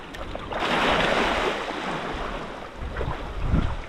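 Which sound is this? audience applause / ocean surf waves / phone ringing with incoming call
ocean surf waves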